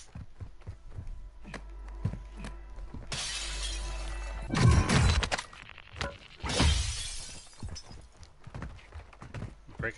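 Glass shattering in the video game Plunder mode, several loud, close bursts of breaking and crashing over a steady game soundtrack with faint footsteps around them.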